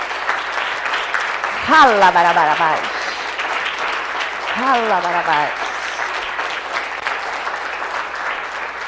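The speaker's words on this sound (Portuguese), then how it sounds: "Dá uma salva de palmas." Steady applause from a congregation at a church service runs throughout, moderately loud and continuous, while a person sings or chants over it at two points.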